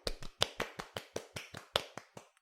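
Hands clap alone in a quick, steady run of about a dozen sharp, close claps, each crisp and evenly spaced.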